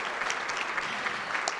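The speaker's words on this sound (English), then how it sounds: "We'll applaud at the end of every category." Brief applause from an audience at a grant announcement, a steady wash of many hands clapping at an even, moderate level for a short burst.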